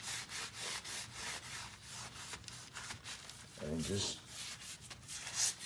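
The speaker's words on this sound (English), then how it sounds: "You kind of rub a little bit, but not too much rubbing's needed." Wood ash grit being rubbed over the glass window of a woodstove, a repeated scratchy scrubbing rhythm with someone talking over it.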